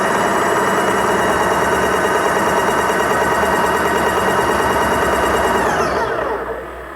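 Graco GX 19 airless paint sprayer pump running steadily while circulating paint through its fluid side, a loud continuous motor drone with a fine rapid vibration that winds down and fades near the end.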